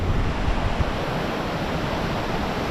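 Waves crash against steps at a waterfall in a forest, a dense, continuous roar of surging water, close and loud, with no voices.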